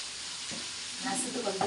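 Chicken frying in a pan in a home kitchen, a steady hissing sizzle with slight stirring clatter near the end, close and soft.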